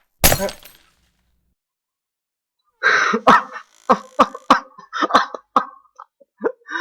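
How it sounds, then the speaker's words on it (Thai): Glass shatters in a horror video game set in a hotel, a sharp, bright crash at the start that fades out quickly. After a silence, several short coughs or throat-clearing sounds follow. "เมื่อกี้นะครับผมเสียงแก้วแตกเนี่ย แก้วในเกมแตก"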